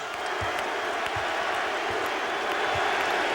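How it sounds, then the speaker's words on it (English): A basketball arena crowd at a Bulls home game roars in sustained cheering and applause, a dense, loud wash of noise throughout. "this crowd saluting the Bulls on Michael Jordan's 48th birthday"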